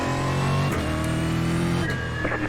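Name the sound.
Stock Car Brasil race cars starting at Okayama in iRacing video game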